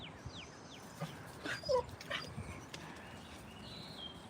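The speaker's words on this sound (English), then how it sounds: "Hey, Elsa dog. Come here" A dog whimpers and yips in short, high bursts at a moderate distance, scattered over a few seconds against a quiet background.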